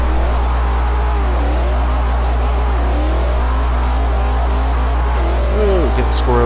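Twin-turbo V8 engine of a Camaro in Forza 4 revs and shifts through rising and falling pitch sweeps, steady and loud with a constant low hum underneath, and a brief high squeal near the end.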